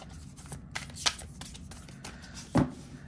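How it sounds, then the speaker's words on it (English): A deck of cards is riffled and shuffled close by, with quick papery flutters and a sharp snap near the end. "shuffle it with no problems"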